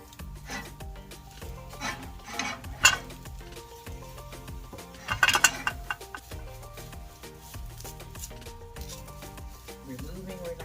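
A spatula scraping a stuck egg white omelet off a pan, with scattered rasping scrapes and two louder bursts of scraping amid the steady low hum of the kitchen.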